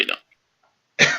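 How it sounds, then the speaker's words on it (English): A single short, harsh cough up close, preceded by a brief vocal sound and a moment of near silence. "that cough tells me otherwise"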